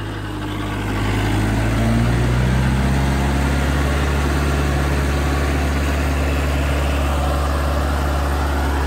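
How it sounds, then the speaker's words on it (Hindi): A Kubota MU4501 45 HP diesel tractor with an 8-foot rotavator runs steadily nearby, its deep engine drone and low vibration continuous throughout with no talk. "45 HP कैटेगरी का ट्रैक्टर है, 8 फुट का रोटावेटर है,"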